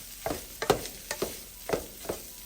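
Creamy sausage and gnocchi stirred in a single pan, a spoon scraping through the thick mixture in five or six distinct strokes over a soft sizzle, close and fairly quiet with no voices.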